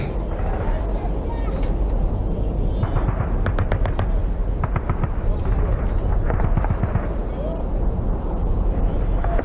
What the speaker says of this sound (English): Another button for gunfire.